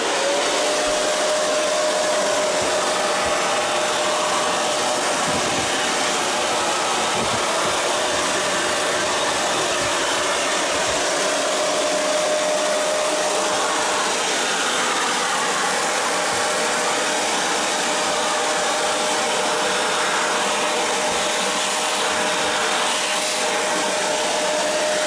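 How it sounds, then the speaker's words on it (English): A Shark Navigator Lift Away vacuum cleaner with its canister lifted off the beater head runs without stopping as it cleans a car dashboard, giving a loud, steady motor whine and airy rush, with no one talking over it. "I can disconnect the canister from the beater head by pushing this button and lifting it up so it's easy to carry up here so I can vacuum the dash."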